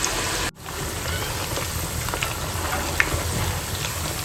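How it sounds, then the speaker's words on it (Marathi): Sweet potato pieces deep-frying in hot oil for Gujarati undhiyu, a steady close hiss and crackle that briefly cuts out near the start, then resumes with scattered pops. "आता ही रताळी ऑलमोस्ट झालेली आहेत तळून"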